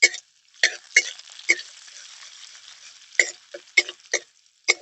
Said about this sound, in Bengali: এবার আমি তেলের মধ্যে দিয়ে দেবো রসুন কুচি আর কাঁচা লঙ্কা কুচি।